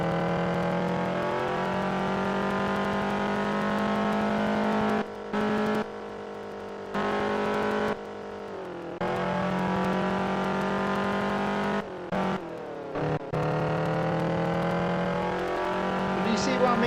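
A race car driven in a racing video game, a continuous high engine whine that climbs and drops with gear changes and brief cut-outs, while a player talks over it.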